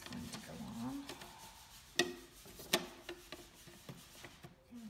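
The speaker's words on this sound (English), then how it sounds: "Now we are going to snap the faceplate on." A plastic faceplate snapping onto a newly installed USB wall outlet: two crisp clicks about a second apart over quiet rubbing and handling noises, all at low level.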